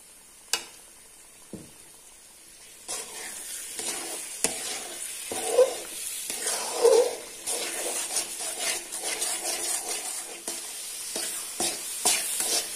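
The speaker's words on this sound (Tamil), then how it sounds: "நெய் ஊத்தி நெய் ஊத்தி நல்லா இப்படி கிண்டி விட்டுட்டே இருக்கணும், அடி பிடிக்காத அளவுக்கு கிண்டிட்டே இருக்கணும்" Jackfruit halwa cooks in ghee in a pan and is stirred continuously to keep it from sticking. Close, repeated scraping strokes mix with a gentle sizzle and bubbling, with no voices.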